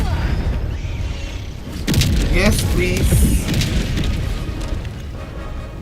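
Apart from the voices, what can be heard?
orbital strike explosions in Helldivers 2 video game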